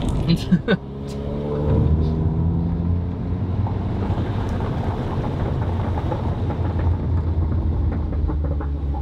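A car engine roars up and holds a loud, steady drone after a brief quieter start, with wind noise over it.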